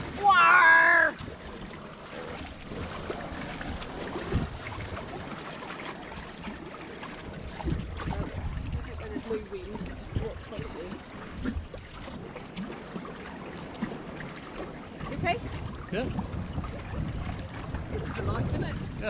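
A sailboat moves across open water off Antigua, with wind buffeting the microphone, water rushing and splashing against the hull, and occasional creaks, while people talk intermittently nearby.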